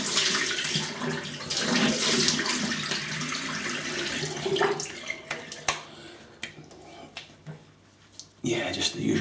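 Running water splashing as a face is rinsed after shaving, a steady wash that breaks into irregular splashes and drips.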